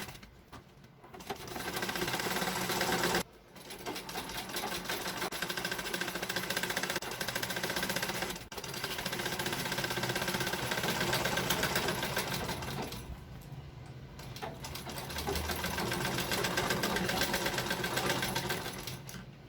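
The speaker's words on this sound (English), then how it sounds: "bring it down again, and continue sewing" A sewing machine runs in long continuous stitching bursts along the edge of a square throw pillow with trimming, steady and close, with a couple of brief pauses between runs.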